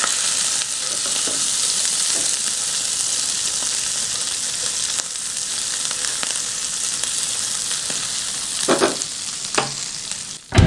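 Pork chorizo fries in bacon fat with a loud, continuous hiss and crackle up close, broken by a few stirring scrapes and knocks near the end.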